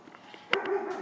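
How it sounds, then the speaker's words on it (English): A neighbor's dog gives a single short bark, faint and off in the background of a quiet indoor room, with a brief trailing yip. "You're gonna have to excuse the dog barking in the background."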